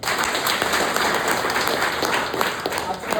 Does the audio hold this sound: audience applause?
yes